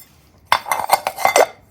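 A metal oil tank cover from a 1972 Yamaha RT1 360 Enduro is set down, giving several close, bright clinks and rattles in a quick cluster with no talking.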